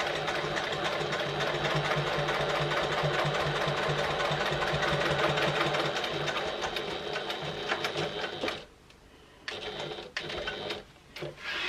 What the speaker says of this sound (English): we're just going to sew along till we get the exact same spot on the other side